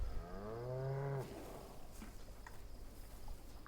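Cows moo in the video game Crimson Desert, one long low moo sounding clearly over a steady ambient bed, then fading into quieter background noise with faint rustling.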